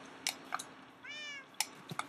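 A tamed cat in Minecraft gives a single short, clear meow midway, framed by a few faint clicks and soft taps from gameplay, quiet overall with no talking.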